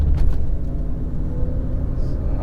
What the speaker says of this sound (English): Just driving normal, like just accelerating normally.